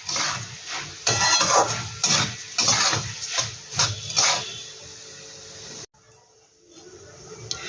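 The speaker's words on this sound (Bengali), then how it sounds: "এবার এটাকে আমি ভালো করে ভেজে নেব" Puffed rice (muri) is dry-fried in a pan for a masala muri snack, making close, repeated scraping, stirring and rustling strokes in irregular bursts, then an abrupt stop and a quieter faint sizzle at the end.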